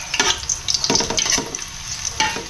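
Onion, garlic and ginger sizzling in a pan as a utensil scrapes and clatters against the metal in quick, uneven strokes, frying steadily up close.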